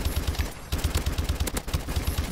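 Rapid automatic fire from the Pytaek gun in Call of Duty Advanced Warfare, a loud, steady stream of closely spaced shots with a short gap partway through, with no talking.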